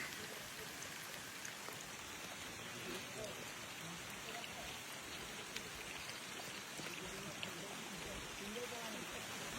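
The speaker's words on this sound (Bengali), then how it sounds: "আবার বৃষ্টি ধরে গেছে আমাদের" Steady rain falls continuously, a dense, even hiss of drops pattering on surfaces, with faint voices now and then.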